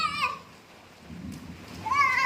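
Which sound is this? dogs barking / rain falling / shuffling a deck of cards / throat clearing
rain falling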